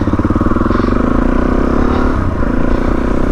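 Suzuki DRZ400E motorcycle engine running steadily while greenlaning, a close, continuous drone with rattling clatter from the bike over rough ground.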